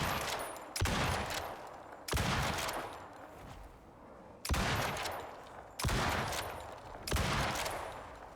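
Shots from a weapon loaded with explosive ammunition in Icarus fire in a slow, steady rhythm, each one a sharp, loud blast with a long rumbling tail, six in all.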